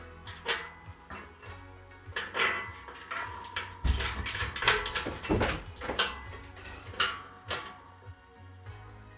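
Metallic clicking and ratcheting as an Allen key tightens a bolt on an Adidas home gym weight stack and pulley assembly, irregular close bursts of clacks and scrapes throughout.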